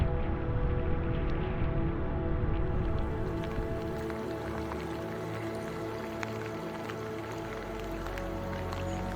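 Rain falls all day during a long bicycle trip across Japan, a steady close wash of drizzle noise with scattered drip ticks, no talk over it.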